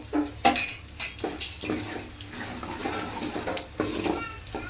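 Peanuts and roasted gram frying in a pan for spicy puffed-rice snack, with a soft sizzle beneath repeated close clatters and scrapes of a spoon against the pan, irregular and fairly loud.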